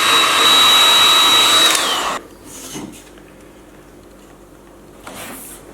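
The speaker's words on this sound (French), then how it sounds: "un décapeur thermique. On chauffe l'extrémité du tube tout en le faisant tourner." A heat gun blows hot air onto the end of a plastic tube while the tube is turned. It gives a loud, steady whooshing roar for about two seconds, then cuts off, leaving quiet handling noises and faint rustles.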